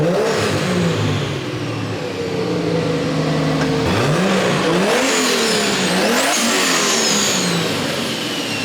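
A Nissan S13 with a 1JZ-GTE engine swap revving hard on a dyno, loud and close: a sustained engine drone, then repeated rising and falling revs with whining harmonics climbing toward the end.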